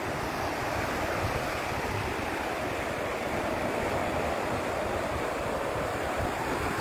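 Sea waves wash steadily onto the shore in a dense, continuous roar, with wind buffeting the microphone throughout and no voices.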